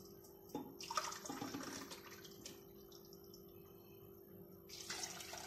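Hot water pours into a red lentil mixture for Turkish lentil köfte, a steady close splashing and trickling stream under a faint constant hum, swelling briefly near the start and again at the end.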